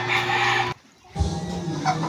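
Backyard chickens clucking nearby, a brief near-silent gap midway, then more clucking and low fowl calls resume.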